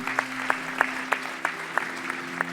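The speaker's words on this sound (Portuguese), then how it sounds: "Dá um aplauso a Jesus" Steady clapping from a church congregation with sharp individual claps standing out at a fairly even rhythm, over a low constant hum.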